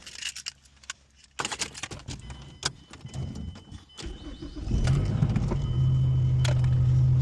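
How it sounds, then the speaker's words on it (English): A 2007 Mazdaspeed 3 being started: keys and cabin clatter, a brief crank, then the engine catches and settles into a steady, loud idle hum that continues to the end. "let's just start the car and go for the quick drive"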